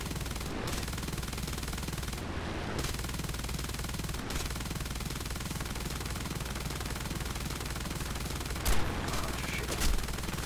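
Aircraft machine guns fire in War Thunder from a He 100 D-1, a dense continuous rattle of rapid rounds that runs the whole stretch, with a couple of heavier thumps near the end.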